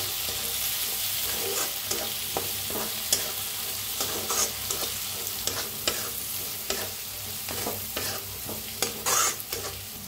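Ground spices, chili powder, turmeric and garam masala, stirred into roasted tomatoes in a hot frying pan, with steady sizzling and repeated scraping strokes of a spoon against the pan throughout.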